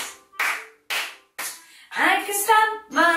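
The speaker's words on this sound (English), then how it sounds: "I can clap my hands" Four sharp hand claps sound in an even rhythm during a baby English lesson song, close and clear, followed by a voice singing.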